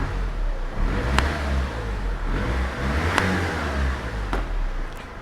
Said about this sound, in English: I'll just rev it again.